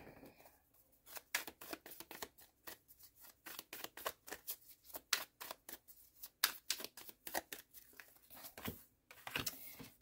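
Tarot cards are shuffled by hand in quick, irregular bursts of riffling and sliding, close and fairly quiet, with no talking.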